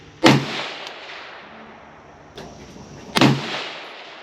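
Two suppressed shots from a 5.56 rifle firing 77-grain rounds through an AAC suppressor, each a sharp loud crack with a short decaying tail, spaced about three seconds apart, with a fainter thump between them outdoors.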